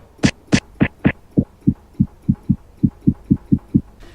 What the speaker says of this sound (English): so now we're gonna work on our kick. Like that's the punch sound